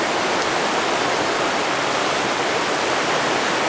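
A river rushes past a hammock camp spot beside a teardrop camper, a loud, constant roar of flowing water that fills the whole moment without a pause.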